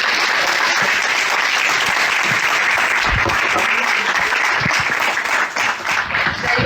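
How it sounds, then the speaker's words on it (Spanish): Audience applause at an academic talk on sexed bodies and sexuality, a dense sustained wash of clapping from a sizable crowd, thinning slightly near the end. "le damos un fuerte aplauso por estar acá"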